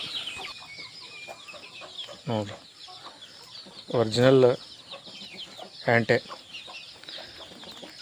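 Soft clucking and chirping from a native naati rooster carry on at low level, interrupted by three short stretches of someone talking.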